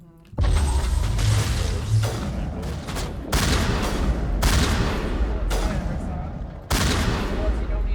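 Energy-weapon fire in the Mass Effect video game blasts in loud, sustained bursts broken by short pauses, a dense close barrage of rapid shots with low booming weight and mechanical clatter.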